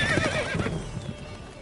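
Roach the horse in The Witcher 3 whinnies loudly up close, a short, sharp neigh followed by hoofbeats in a brief clip.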